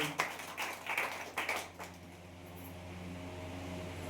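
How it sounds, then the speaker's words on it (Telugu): A church congregation at a Sunday service claps in loud bursts for about two seconds, then the applause fades into a steady background hum. "గట్టిగా చప్పట్లు కొట్టి దేవుని కనపరచండి."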